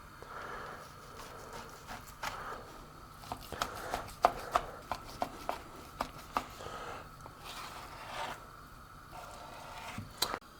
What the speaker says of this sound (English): we want to cut this steak, Wagyu steak, into smaller cubes